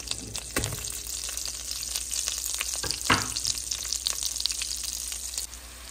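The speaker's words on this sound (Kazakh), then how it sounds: "Менде пиязым қуырылып жатыр." Onions frying in hot oil in a kazan while macaroni po-flotski is being made, a continuous close crackling sizzle with stirring clatters and a couple of sharp knocks.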